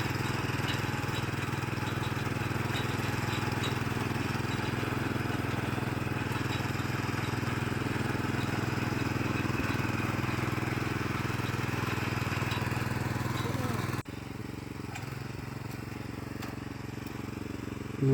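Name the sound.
Krisbow cultivator engine tilling soil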